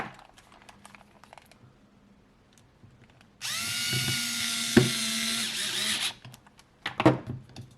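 A small power screwdriver drives screws into a Beats Pill speaker during a repair, one loud whirring burst of about three seconds between quiet handling clicks and taps.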